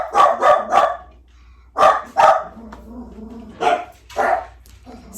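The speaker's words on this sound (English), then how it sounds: "Next door neighbor's dogs are barking." Neighboring dogs bark in bursts outdoors: a quick run of three barks, a pause, two more, then another pair, loud and fairly close.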